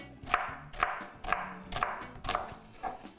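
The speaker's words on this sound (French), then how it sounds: "Hacher comme ça." An onion chopped with a knife on a board, six crisp, evenly spaced cuts landing about every half second, close and clear with no talking.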